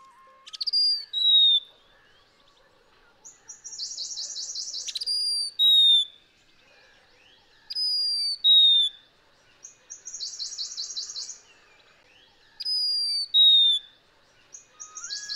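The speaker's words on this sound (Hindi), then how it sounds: "स्ट्रिक्ड लाफिंग थ्रस्ट, जो हमारे खेतों की मेढ़ों, जंगल से सटे हुए ढलान और नालों के पास फुर्सत से कई प्रकार की आवाजें निकालते हुए सुना और देखा जा सकता है" Streaked laughingthrushes calling along field edges and forest slopes in Kumaon, with repeated bright whistled phrases and rapid chattering bursts in bouts about every two to three seconds, fairly close and clear, with no talk.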